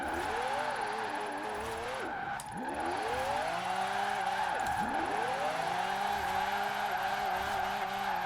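A McLaren 600LT tuned to 1,400 horsepower drifts sideways in the Forza Horizon 4 racing game, its engine note swooping up and down with two sharp dips as the tyres squeal under a steady, continuous roar.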